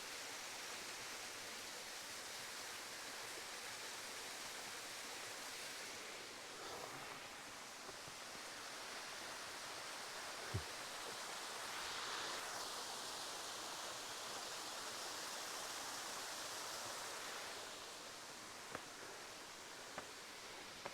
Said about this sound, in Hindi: वाटरफॉल है।